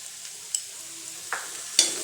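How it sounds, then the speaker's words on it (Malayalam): Sliced onions with a pinch of salt are stirred in a pan for Kerala-style duck curry: a quiet sizzle with a few sharp spoon scrapes and taps. "നല്ലതായിട്ട് ഇളക്കി കൊടുക്കാം."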